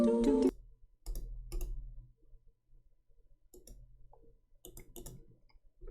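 Mouse clicks on a Windows PC running the old Twinkle Bulbs 5.5 software: a loud burst at the start, then scattered sharp, close clicks in small clusters with quiet gaps between.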